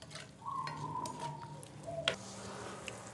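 Sauce with oyster sauce is stirred in a frying pan, a utensil scraping and clicking against the pan over soft sizzling, close up with a sharp tap midway and no talking.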